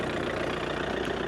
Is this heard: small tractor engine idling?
yes